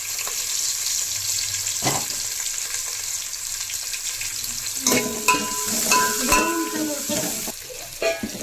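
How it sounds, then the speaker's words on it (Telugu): Onions, curry leaves, mustard seeds and cumin sizzle in hot oil as a tempering for ulava charu, a steady loud frying hiss with stirring scrapes and clinks later on. "రెడీ చేసుకున్న ఆనియన్స్, కరివేపాకు, ఆవాలు, జీలకర్ర ఇవన్నీ వేసి తాలింపు వేసుకున్నాం"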